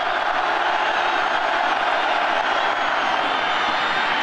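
A college football stadium crowd of 86,000 roars steadily behind the home defense at Nebraska against Iowa State, a dense, unbroken wall of cheering that stays loud and even throughout.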